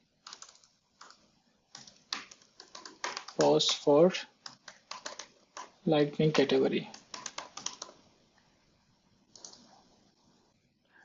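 Rapid keystrokes clatter on a computer keyboard while comments are added to code, in bursts of typing broken by short pauses, with someone talking softly over part of it.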